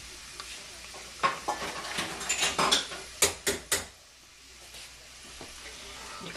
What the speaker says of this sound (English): I have 3 tablespoons of achote oil, and I'm just going to strain that